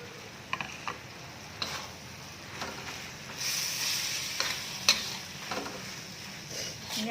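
Cassava leaves, boiled and chopped small, being stir-fried in a pan for a chili and shrimp paste dish: a steady soft sizzle with occasional scraping and clicking stirs against the pan.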